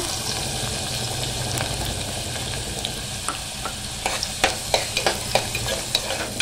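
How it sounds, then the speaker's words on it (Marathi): Onion drops into hot oil in a pan for a Malvani-style bhogichi bhaji, setting off a steady close sizzle with a run of sharper stirring clicks and scrapes toward the end, and no voices. "आता तेल छान गरम झालेलं आहे, आता आपण ना कांदा टाकून घेऊया।"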